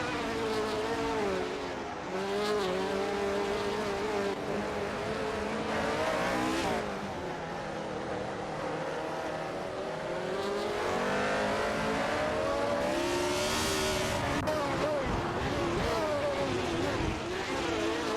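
Race cars cornering in a racing video game, their engines droning continuously and loudly at high revs. Overlapping whines from several cars rise and fall as they exit a turn and head onto a straight.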